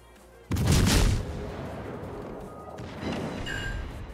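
Main battery guns of the light cruiser Helena fire in a naval combat video game, a loud broadband boom at the start rolling into a long reverberant tail, then a second, softer muffled impact with a faint whistling tone near the end.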